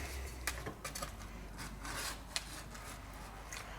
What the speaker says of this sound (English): We're just going to keep scraping whatever we can off.